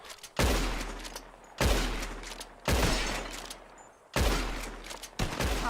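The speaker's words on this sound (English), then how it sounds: "Whoever shoots more of these bottles wins. Just draw your gun and aim when you're ready." Gunshots in the Red Dead Redemption 2 video game during a bottle-shooting contest: four loud, booming shots, each trailing off in a long echoing decay before the next, with no voices.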